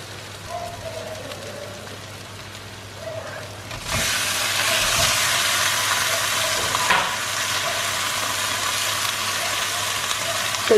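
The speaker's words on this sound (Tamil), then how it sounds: "இப்போ நான் சிக்கன் போட்டுற போகிறேன்." Chicken pieces, cut large and salted, dropped into oily masala for a Kerala chicken curry, sizzling and frying steadily, the sizzle jumping louder after a few seconds and continuing with occasional stirring.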